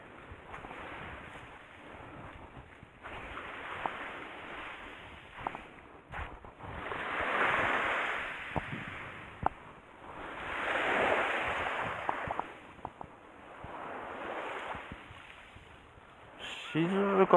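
Gentle sea waves wash in slow swells on the Seto Inland Sea near Yuge Island, Kamijima, Ehime, with soft wind noise across the microphone and a few brief voices in the background.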